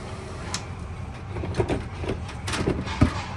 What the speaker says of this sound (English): Does have the sliding glass doors.